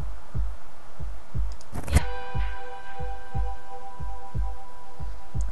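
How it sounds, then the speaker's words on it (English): Steady, low heartbeat thumps pulse from the video game Godus at a regular rhythm, roughly two per second, with a brief bright chime and sustained tones ringing over them midway. "I hear a heart beating."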